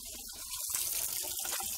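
Water runs steadily from a tap into a grease trap, a soft continuous splashing stream, fairly quiet and close.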